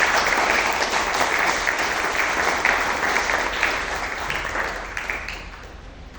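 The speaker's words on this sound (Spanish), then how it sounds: "Dame una ofrenda de palmas a Dios." A church congregation applauds as an offering to God during a sermon, with sustained, dense clapping from many people that tapers slightly toward the end.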